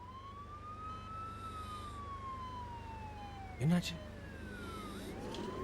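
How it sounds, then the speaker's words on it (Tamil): A wailing ambulance siren sweeps slowly up and down at a distance on a road, steady and fairly faint, with a brief loud thump and a short spoken question near the end. "ஆம்புலன்ஸ்னால் சைரன் இருக்கும், சைரன் போட்டால் தான் வழி கிடைக்கும்."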